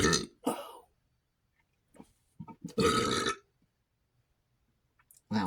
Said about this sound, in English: It's like a Simpsons burp.